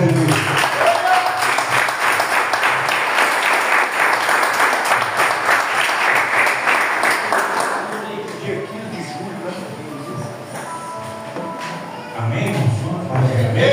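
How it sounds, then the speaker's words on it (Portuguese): A church congregation applauds during an evening service, many hands clapping loudly and steadily before thinning out into scattered claps and shuffling, with a brief renewed burst near the end. "aplauda o Senhor em nome de Jesus."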